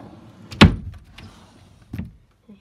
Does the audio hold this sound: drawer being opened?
yes